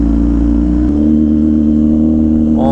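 A motorcycle fitted with a loud Rush custom exhaust idles with a steady, deep, throaty drone, close and loud, then starts to pick up slightly at the very end.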